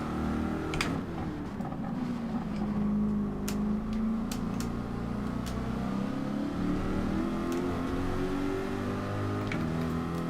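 Race car engine from a Group 4 car in Gran Turismo 7 at Autopolis, droning loudly and steadily throughout with pitch rising and falling through gear changes.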